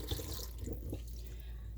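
Rinse water poured out of a pot of rice, a steady close splashing and trickling rush that runs unbroken for under two seconds, quiet and alone.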